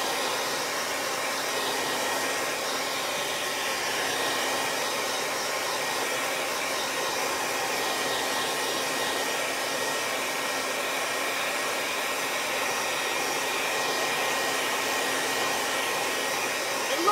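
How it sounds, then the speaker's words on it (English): A hair dryer blows steadily and closely to dry ink on a t-shirt, with a constant even whooshing hum that runs unbroken from start to finish. "Now I'm going to just blow this dry a little bit more."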